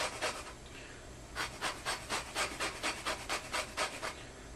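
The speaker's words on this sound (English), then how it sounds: "take our lemon that we had prepared, and if you have a grater or actually a zester" A lemon rubbed against a grater or zester, with quick rhythmic rasping strokes close up, sparse at first and then a steady run of about a dozen even scrapes, quiet and without talk.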